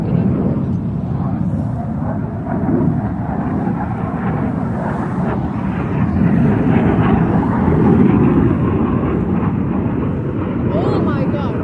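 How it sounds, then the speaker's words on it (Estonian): Loud airplanes fly low overhead, giving a steady, heavy roar that swells toward the middle and fills the whole stretch. "kui õudsad need lennukid on"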